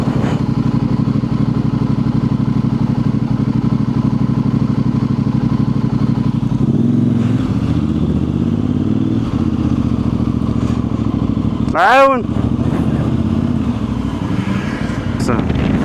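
A motorcycle engine drones steadily while riding on a road in Morocco, loud and close with constant wind rush, the pitch shifting midway and a brief rising whine near the end, under intermittent talk.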